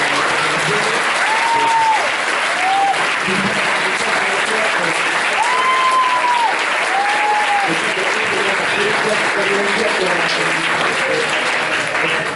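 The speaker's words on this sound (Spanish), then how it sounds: "Les pido un fuerte aplauso para nuestra..." Audience applause fills a women's conference at a preparatory school: dense, steady clapping throughout, with a few voices rising briefly above it.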